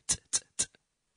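A voice imitates a closed hi-hat, producing three short, crisp, hissing ticks in an even rhythm, followed by a faint softer click, close and quiet.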